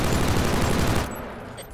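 Rapid automatic gunfire in a Killzone Shadow Fall multiplayer match at a factory map, a dense loud burst of shots for about a second that then cuts away to quieter game ambience.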